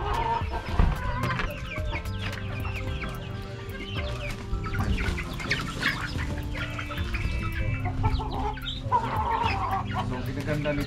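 A mixed flock of native chickens and Rhode Island Reds clucks and chatters continuously at close range, overlapping calls forming a busy, steady farmyard din.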